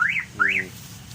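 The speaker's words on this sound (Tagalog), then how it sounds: "pasagdahan ito ng alarm, palo na itong 10 seconds" A car alarm on a Mitsubishi Montero chirps in two rising-and-falling sweeps, loud and close, over a low background hum.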